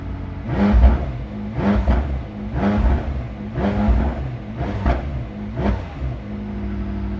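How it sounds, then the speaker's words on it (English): A warm McLaren 600LT Spider engine revved gently and repeatedly, about six short rising bursts in a steady rhythm over a continuous idle, close and fairly loud. "Car is reasonably warm, so I'm going to get a couple of gentle revs."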